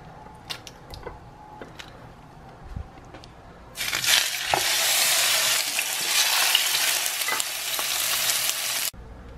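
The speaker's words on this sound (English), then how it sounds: "So I'm going to go ahead and get these seared up." Bone-in pork chops drop into a hot pan and sear, a loud, steady hiss that bursts in after a few seconds of faint clatter, holds for about five seconds and then cuts off sharply.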